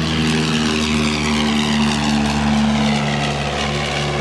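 A 1945 Nord Stampe SV4C biplane drones steadily in flight, its propeller and engine giving a loud, continuous buzzing hum with a constant pitch, heard close up from on board without any talk.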